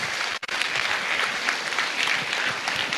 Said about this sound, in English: One big clap to her question.